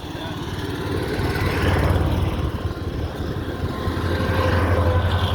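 Passing traffic rumbles outdoors, a low droning swell that builds and fades as vehicles drive by at moderate distance, continuous for several seconds with faint talk underneath.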